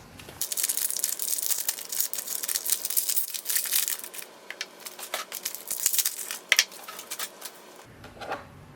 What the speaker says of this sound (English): remove the ink cartridges from the plastic packaging